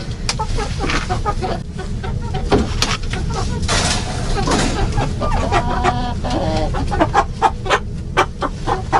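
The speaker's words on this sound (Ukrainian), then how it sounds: "Ось такий ще голошийка півник" Chickens, including a naked neck rooster, cluck continuously nearby, with sharp clucks and squawks repeating over a steady farmyard background.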